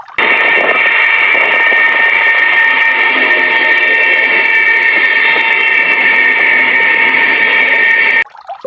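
A toy high-speed train runs with a steady, loud mechanical whir and hum that holds constant for about eight seconds, then cuts off abruptly near the end.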